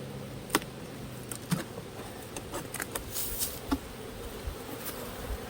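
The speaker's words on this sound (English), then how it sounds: "These bees are like ferocious when they first moved in" Honey bees buzzing around a large nest, a low continuous drone with scattered sharper buzzes as insects fly close past, with no voices.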